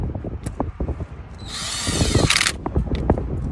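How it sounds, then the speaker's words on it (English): A power tool drives valve cover bolts back into an R56 Mini Cooper engine, a single whirring burst of about one second that rises loud and close between clicks and handling noises. "All right, so now that we screwed those 10 bolts in"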